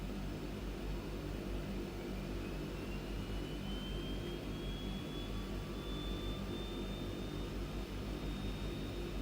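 A DHC-6 Twin Otter turboprop engine spooling up in a flight simulator, a steady broad roar with a thin whine rising in pitch as the turbine climbs, continuous and loud with no talk.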